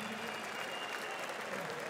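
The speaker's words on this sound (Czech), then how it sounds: "Váš potlesk zaslouží také Kuba Bahník" An audience at a fight event applauds fighter Kuba Bahník, a dense, steady wash of clapping from a crowd heard at a distance, continuous for the whole moment.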